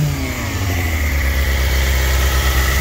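Idling 2006 Suzuki GSX-R600 sportbike with its cooling fan running: a steady, loud engine hum with an even whirring drone, continuous and close throughout.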